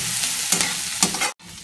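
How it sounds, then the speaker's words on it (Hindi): Onions fry in a pan toward browning with a close, steady sizzle and two quick scraping stirs, followed by a brief cut to silence before the sizzling resumes. "जब तक मैं प्याज को ब्राउन होने तक फ्राई कर लेती हूँ"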